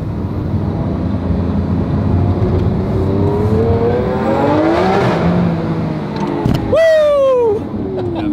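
A sports car accelerates hard on a short pull, its engine note climbing in a rising whine through the gears, then a sharp upshift and a loud close roar near the end.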